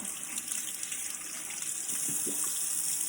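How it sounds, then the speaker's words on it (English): Tap water runs steadily and fairly softly while an emptied eggshell is rinsed out, a continuous gentle stream with no speech. "But then I just rinse it out,"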